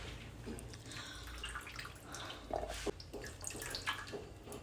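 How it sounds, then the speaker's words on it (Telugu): Salted, soaked bitter gourds being squeezed and washed by hand in water, giving soft sloshing and dripping splashes with a few brief wet squelches, close and fairly quiet. "ఉప్పేసి నానబెట్టిన కాకరకాయల్లో కొన్ని వాటర్ పోసి బాగా పిసుకుతూ కడిగితే దీనికి ఉన్న డస్టు, చేదు పోతుంది"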